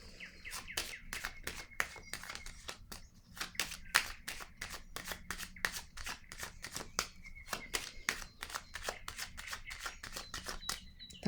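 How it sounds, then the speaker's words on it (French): Tarot cards being shuffled and drawn, a rapid run of crisp close-up riffling snaps and flicks repeating with short pauses, alone without talk. "Je vais piger d'autres cartes."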